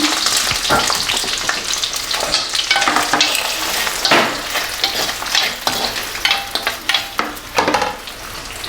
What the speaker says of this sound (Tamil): அதுக்கு வெங்காயம் போட்டுக்கிறேன்